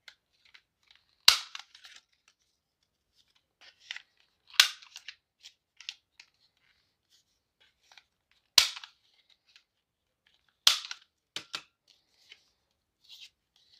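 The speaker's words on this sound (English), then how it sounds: "I'm going to go ahead and round the corners here." Corner rounder punch snipping the corners of a paper card, four sharp, loud clicks spaced a few seconds apart, with quiet paper rustling and handling noises between them.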